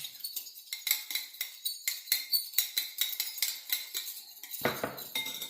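A spoon stirs salt into a white truffle balsamic reduction from Thrace, clinking against the bowl in a quick, steady run of bright metallic taps, close and clear, with one heavier scrape near the end.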